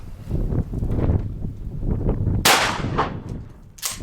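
A shotgun loaded with mini buckshot shells fires at a target, one sharp loud blast followed by a second shorter crack near the end, over wind noise on the microphone.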